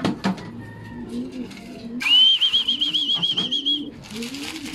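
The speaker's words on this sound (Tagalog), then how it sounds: "Ating mga young bird." Young pigeons flap their wings and coo close by, with a bright whistling tone in the middle and soft rustling around it.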